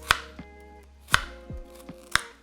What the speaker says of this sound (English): We're gonna go ahead and get this chopped down.